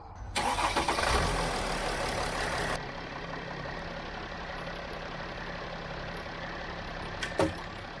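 Mercedes Sprinter van engine cranks briefly, catches and settles into a steady idle, loud and close at first, then a lower even rumble with a small clank near the end.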